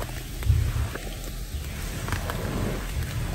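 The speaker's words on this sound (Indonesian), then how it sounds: "saya dan Sekar di sini nunggu hujan nggak reda-reda" Heavy rain pours down on a campsite at night in a steady, dense hiss with a low rumble underneath, continuous and fairly close throughout.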